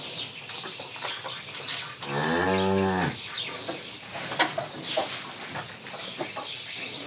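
On a farm, a cow that has just had newborn twin calves gives one loud drawn-out moo close by, while chickens cluck and other birds chatter steadily throughout.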